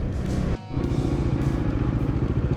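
A motorcycle cruises on a Gujarat highway between Gandhinagar and Bharuch, its engine a steady close droning rumble with wind noise and a momentary dip partway through.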